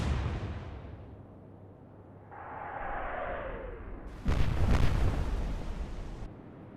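Warship guns in the naval combat video game Atlantic Fleet fire after a rising whoosh, ending in one loud, close boom that rumbles for a couple of seconds before cutting off.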